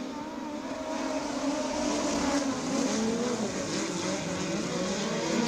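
Race cars roar around the track in a steady, loud drone of several engines, close and sustained without a break, with faint tire and wind noise beneath.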